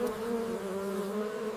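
A hive full of honey bees fans its wings in a constant, even, close-up hum that holds steady from start to finish.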